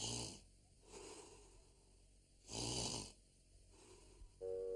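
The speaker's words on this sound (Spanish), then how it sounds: "¿Cómo podrá dormir con todos esos ronquidos?" Cartoon snoring: three loud, drawn-out rasping snores spaced by quieter wheezy breaths, ending on a short tonal note.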